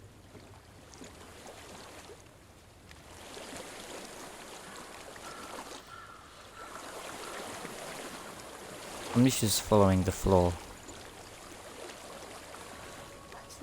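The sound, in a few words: flowing water stream in the video game Hellblade: Senua's Sacrifice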